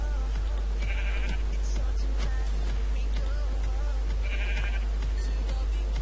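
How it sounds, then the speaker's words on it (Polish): Sheep bleat in the Minecraft video game, two distinct bleats about three seconds apart over a constant low hum and faint ticking game sounds, with no one speaking. "głośno tych owiec"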